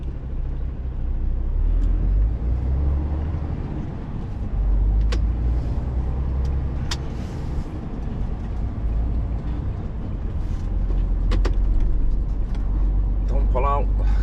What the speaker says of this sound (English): Careful of these cars.